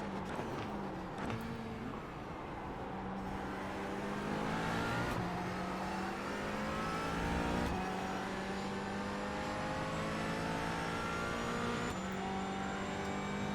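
Porsche Cayman engine revving hard in iRacing, its pitch climbing and dropping with each gear shift, loud and continuous with no talking.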